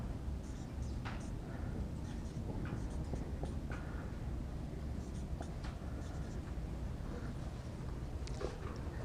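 Marker or chalk writing out a math inequality on a board in a lecture room, a steady run of scratchy strokes and taps with faint room noise and no talk over it.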